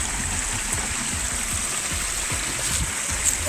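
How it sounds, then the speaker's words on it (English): Small waterfalls at Oak Creek Spring in the desert pour steadily nearby, a continuous splashing rush with gurgling low bursts and no voices throughout. "we finally found some waterfalls"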